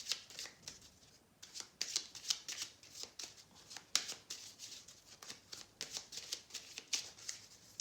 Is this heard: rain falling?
no